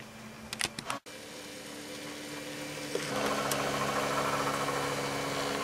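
A 3D printer runs while printing a part for a segmented woodturning blank, giving off a steady close mechanical hum with a few clicks and a brief pause before the motor drone rises and carries on.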